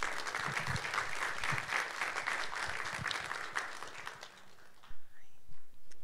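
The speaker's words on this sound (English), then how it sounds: "Please give a warm round of applause to Dr. Portia Johnson Williams." Audience applause at a prostate cancer talk, a dense steady clapping that fills most of the stretch before tapering off near the end, with a few louder individual claps.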